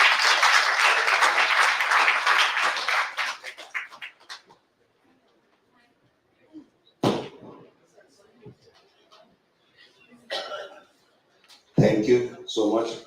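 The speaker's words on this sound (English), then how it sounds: "give a bigger and louder clap" An audience applauds at a Rotary peace, goodwill and conflict prevention conference: a dense burst of clapping that thins out and fades within a few seconds, followed by scattered faint bumps and brief noises.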